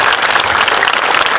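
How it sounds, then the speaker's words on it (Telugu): A brief burst of dense audience clapping at a meditation gathering at a pyramid inauguration, loud and close, steady throughout with no voices on top. "ధ్యాన జగత్తు మనం గట్టిగా చప్పట్లు కొడతాము."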